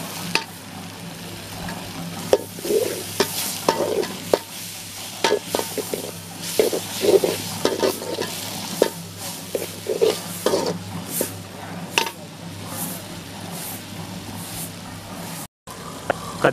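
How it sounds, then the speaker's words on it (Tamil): Native brinjal (eggplant) sautéing in a pan for a dried-fish kuzhambu in a village kitchen: steady sizzling with repeated scraping stirs at irregular intervals, moderately close, no talking. "கத்திரிக்காய் நல்லா வதங்கிடுச்சு."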